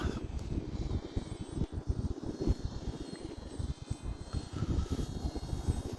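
A Hobbyzone Carbon Cub S 2 1.3m RC airplane drones faintly overhead in windy open air, its small motor largely buried under heavy, gusty wind rumble on the microphone.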